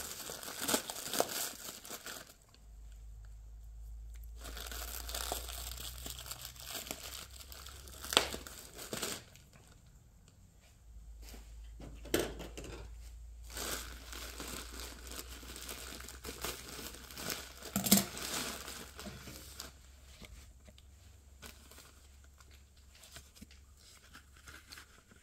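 Dull scissors cut open a plastic bag of old books, giving bursts of crinkling and tearing plastic with quiet gaps between them, close by and fairly soft, with no voices.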